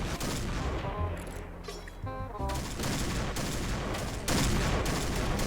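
Rapid automatic gunfire in the Point Blank shooter, several loud sustained bursts of fire with a short lull partway through and a faint voice underneath.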